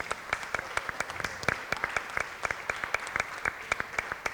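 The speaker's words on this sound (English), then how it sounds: "Wow, a round of applause." A small audience at an art talk in Milan claps a round of applause, with distinct, fairly sparse claps forming a lively but modest patter at close range.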